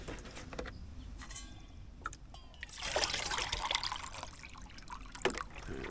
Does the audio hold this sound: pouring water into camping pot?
yes